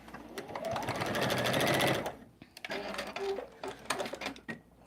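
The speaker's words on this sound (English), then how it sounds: "I'll just throw a stitch in anywhere just to hold that bit of batting down" A sewing machine runs in a steady close burst, stitching fabric and batting for a small scrappy fabric basket, then stops and restarts in shorter, uneven spurts.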